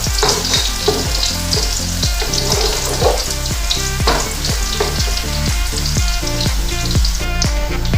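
Onions frying in a pan for urad dal, giving a loud, continuous sizzle with a regular rhythmic stirring pattern throughout.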